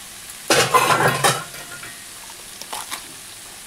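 Bottle gourd pieces tumble into a hot pan with chicken, setting off a loud burst of sizzle and clatter that fades to a low frying hiss, followed by a few lighter utensil scrapes.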